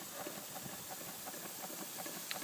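Stuart No.9 coal-fired model steam engine running steadily, a soft continuous hiss with light rhythmic chuffing and mechanical ticking, fairly quiet and close, with no voices.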